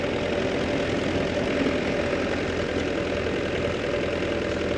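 A motorcycle engine idles steadily at close range while a rider learns clutch control, a continuous low rumble with a faint knocking texture and no throttle blips or talking.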